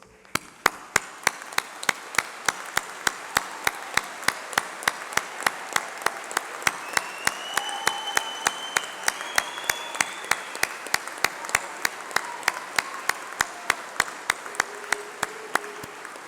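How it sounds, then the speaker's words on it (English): Graduation ceremony audience at a UCLan hall applauding course reps, a dense sustained round of clapping punctuated by sharp, evenly spaced louder claps, steady and fairly loud throughout. "please stand up while we give you a round of applause"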